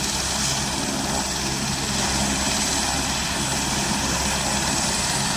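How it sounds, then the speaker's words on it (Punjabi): Helicopter service from Govindghat to Hemkund Sahib: a loud, steady engine and rotor drone close by, continuous with a low thrumming beneath a bright whine, no voices. "ਜਿਹੜੀ ਹੈਲੀਕਾਪਟਰ ਸੇਵਾ ਹੈ ਗੋਬਿੰਦ ਘਾਟ ਤੋਂ ਗੋਬਿੰਦ ਧਾਮ ਤੱਕ ਦੀ ਸੇਵਾ"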